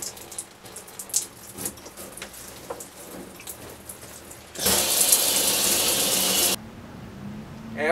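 A shower runs to purge air from household water lines after a water heater install, starting with faint drips and sputters before a strong, loud spray gushes for a couple of seconds and then cuts off.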